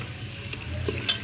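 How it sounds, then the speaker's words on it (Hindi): Spices frying and being stirred in a pan for Lahori-style daal mash, a brief soft sizzle with a few light scrapes of the spoon, close up and with no voices. "जिस तरह ये थोड़ा देर मैं इसको भूनती हूँ आपके सामने"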